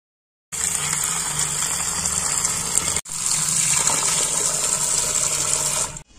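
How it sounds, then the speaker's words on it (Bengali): Cut potatoes rinsed under a running tap, a steady rushing gush of water filling a bowl for several seconds with a brief break midway, close and loud with no talk. "এখন এগুলোকে ভালো করে ওয়াশ করে নেব।"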